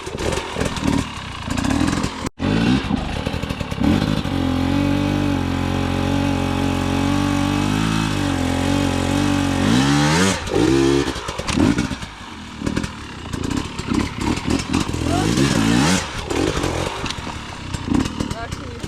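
Hard enduro motorcycle engine revving loudly and steadily close by, with throttle surges and pitch changes through most of the stretch, under and between a man's spoken instructions.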